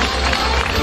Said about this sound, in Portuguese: Essas palmas, com muita força.